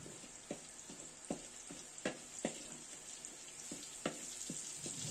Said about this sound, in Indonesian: Selanjutnya persiapan untuk membuat terasi goreng.